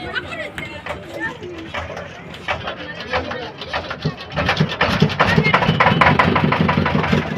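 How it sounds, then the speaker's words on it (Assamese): A boat engine on the Brahmaputra River in Assam rattles and clatters as it starts, then catches and runs louder and steadier, with voices talking nearby. "এতিয়া নাও স্টার্ট হল আমি এতিয়া যাম"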